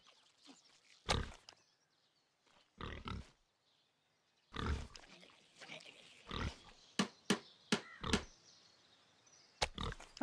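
Short bursts of pig grunts and snorts in the game RuneScape 3 come in irregular clusters, some loud and close, separated by near-silent gaps.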